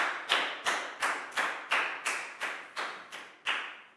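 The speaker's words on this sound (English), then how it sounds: "High five and a big round of applause for Pak Bung." A class claps for a pupil in a Year 4 health lesson. About ten evenly spaced, sharp claps follow a steady rhythm, each one ringing briefly in the room.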